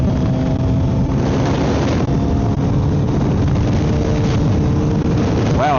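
A Kawasaki Z900 fitted with a full M4 exhaust rumbles continuously while being ridden at low speed, a loud, close engine drone mixed with heavy wind buffeting on the microphone.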